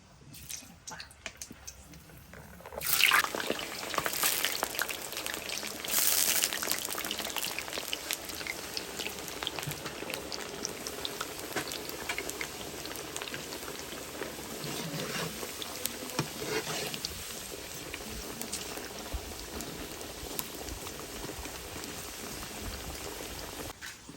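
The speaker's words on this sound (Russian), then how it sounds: "жарим до золотистой корочки. Масло должно быть, казан с маслом должно быть раскаленным." Quail frying in a hot, oil-filled kazan gives a steady, dense sizzle and crackle that swells after a quiet start and holds loud throughout, with no voices over it.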